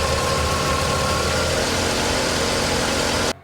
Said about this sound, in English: Let's go pull out the diagnostic pin and see how it idles.